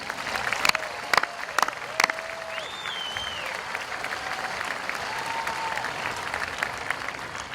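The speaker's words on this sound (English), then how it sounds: "Let's give them a great round of applause." An audience applauds at a high school commencement ceremony, a steady wash of clapping with a few sharp claps and whistles standing out across the crowd.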